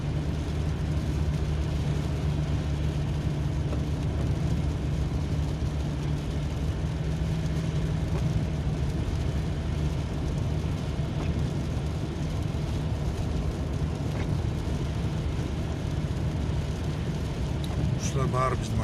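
Cars in an escorted convoy drive along a road, giving a continuous low rumble of engines and tyres with wind noise throughout, while someone talks over the drone.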